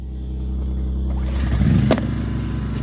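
A silenced portable generator engine starting up and running nearby, a steady low hum with a brief clattering rise in the middle.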